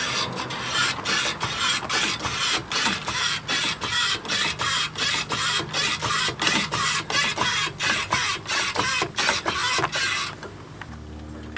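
A jack being cranked to raise a 1988 Mazda 323 for rear wheel bearing work, producing a fast, regular ratcheting clatter of close metallic clicks that repeats steadily for about ten seconds, then stops.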